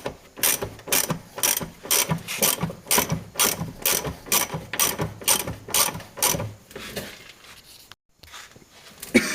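Ratchet wrench backing out a pre-loosened rear upper control arm bolt on a 2002 Honda Civic, a rapid rhythmic clicking in steady bursts at close range, pausing briefly near the end.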